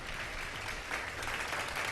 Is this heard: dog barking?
no